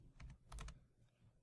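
A computer keyboard clicks in a quick close burst of a few keystrokes, a short pause, then another tight cluster, with no talk.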